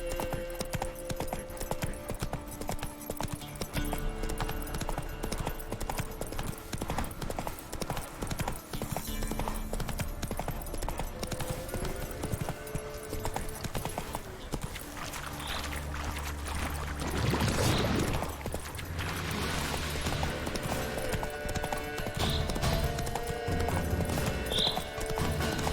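The horse Roach gallops in The Witcher 3, its hooves drumming in a steady, rapid clip-clop throughout, joined by a brief swell of rushing noise midway and a faint snort.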